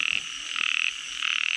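Several frogs croak in a dense, continuous chorus at a small Thai pond where frogs are being caught at night, with louder pulsing bursts swelling and fading over a steady high-pitched trill, no voices.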